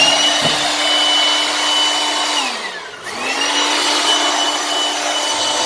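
An air blower machine runs close by with a loud, steady whooshing whine; its pitch dips briefly partway through, then recovers to a constant drone.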